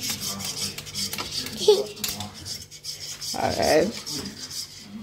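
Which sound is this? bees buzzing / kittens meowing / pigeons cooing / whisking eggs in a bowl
whisking eggs in a bowl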